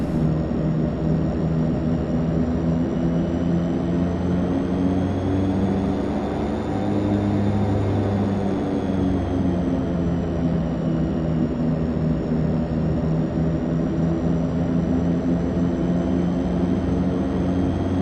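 A DHC-6 Twin Otter twin-turboprop taxiing in a flight simulator, a steady droning propeller hum with a constant high turbine whine that rises and falls slightly, close and continuous with no talk.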